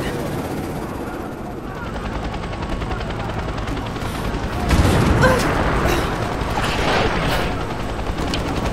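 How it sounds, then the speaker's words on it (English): A helicopter in the video game Rise of the Tomb Raider roars steadily through the scene, its engine and rotor noise swelling louder midway alongside bursts of gunfire and mechanical clatter, with voices faintly mixed in. "The helicopter is too fast."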